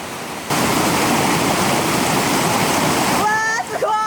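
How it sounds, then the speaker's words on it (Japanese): A large waterfall on a mountain headwater stream roars as a loud, steady broadband rush that fills the whole clip, with a few voices breaking in near the end. "大きな滝が見えます。"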